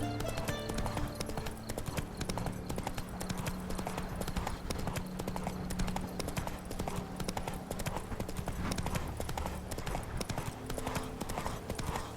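Hooves of a horse clip-clop at a steady gait in The Witcher 3: Wild Hunt, a brisk, regular, close beat that runs the whole time over a low in-game ambient bed.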